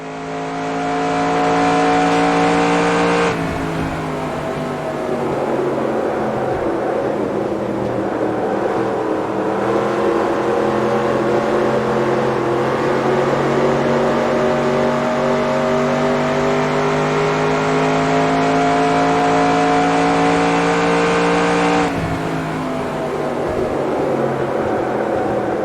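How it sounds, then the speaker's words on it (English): Race car engine in the NASCAR Racing 2002 video game lapping Homestead-Miami Speedway, a loud continuous high-revving drone with pitch shifts at gear changes and through the corners, heard alone. "Let the car drift out to the outside wall."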